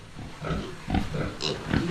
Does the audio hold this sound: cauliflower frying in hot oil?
no